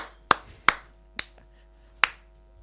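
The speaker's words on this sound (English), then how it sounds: "You can stop clapping now, Troy." A lone person clapping slowly after a speech, four sharp, close, separate claps at uneven intervals with near silence between them and no one else joining in.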